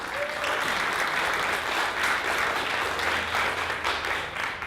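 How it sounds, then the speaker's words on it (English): An audience gives a newlywed couple a round of applause on stage at a wedding-themed Q&A. The clapping is dense and sustained at an even loudness throughout. "Let's give a round of applause to Kanani and Jesse."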